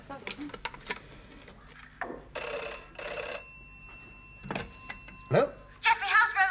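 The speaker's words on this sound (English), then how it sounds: "No, the phone." Telephone bell ringing indoors in a sitting-room scene, with a few short ring bursts alongside dish and cutlery clatter and speaking voices.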